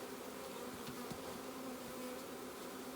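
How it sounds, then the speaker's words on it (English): A steady, low insect buzz of many honey bees at a hive hums continuously, with a faint droning tone and no voices. "The bees are there"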